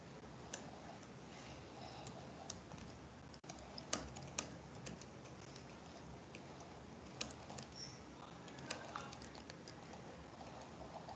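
Typing on a computer keyboard sounds as a faint, irregular patter of soft key clicks with a few sharper taps, set against a quiet room hiss.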